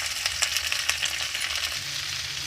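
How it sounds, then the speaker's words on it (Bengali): Mixed vegetables sizzle in hot oil after a five-spice tempering, a dense close hiss with light stirring scrapes and small taps, steady and unbroken throughout with nobody speaking. "দেখুন 5 ফোড়ন দিয়ে একটু নাড়াচাড়া দিয়ে নিলাম"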